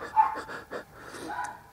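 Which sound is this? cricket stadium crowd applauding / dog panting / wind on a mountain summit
dog panting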